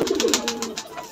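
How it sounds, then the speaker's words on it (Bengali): Many high-flying pigeons coo together inside a loft, a dense, overlapping murmur of low throaty calls close by, steady across the moment with no voices. "দেখুন সামনের মধ্যে প্রচুর পরিমাণে পায়রা রয়েছে।"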